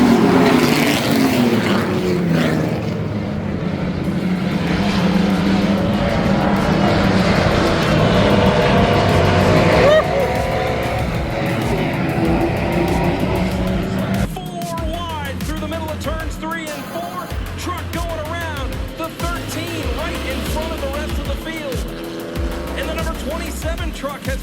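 A pack of Nissan Altima race cars roars continuously around a track, engines droning and shifting pitch as they pass, under a commentator's voice.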